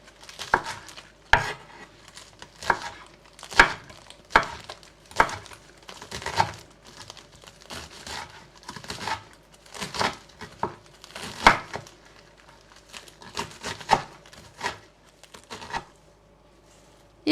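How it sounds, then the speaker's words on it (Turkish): A knife chops a stacked bundle of parsley and lettuce leaves on a board for a cauliflower kısır, giving sparse, crisp cuts at an irregular pace, fairly quiet and close, with soft rustles between strokes. "Hepsini aynı anda keseceğim."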